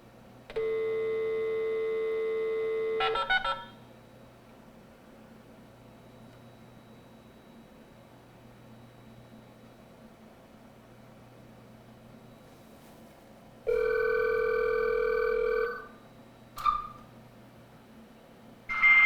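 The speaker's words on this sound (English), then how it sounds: "modem starting to dial now, and we should also hear the wonderful sounds" A Hayes 1200 baud Smart Modem dialing and connecting, with a steady tone for a few seconds, a long quiet stretch with a faint low hum, then another tone burst and brief chirps, heard alone and fairly clear.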